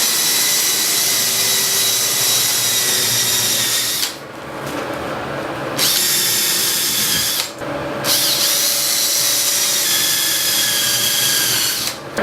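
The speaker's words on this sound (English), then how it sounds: "So the holes are now drilled for the hinges." A loud, steady power drill whines continuously while drilling hinge holes in shower door glass, dropping out briefly twice before grinding on again.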